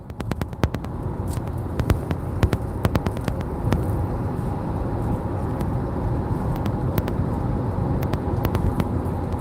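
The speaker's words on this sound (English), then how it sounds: "You hear a little bit of wind noise." Car cruising in the middle lane of a highway, with a steady broadband rumble of road and wind noise and scattered sharp clicks and crackles throughout.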